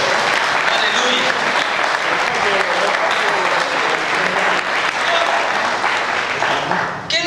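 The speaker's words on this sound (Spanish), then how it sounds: "Denme un aplauso al Señor, por favor." Steady, vigorous clapping rises from a church congregation, a thick wall of many hands applauding loudly and continuously before tapering off near the end.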